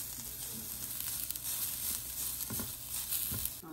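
Celery strips and shredded carrot being stir-fried until soft hiss in a steady, close sizzle, broken by several louder scraping stirs of the pan.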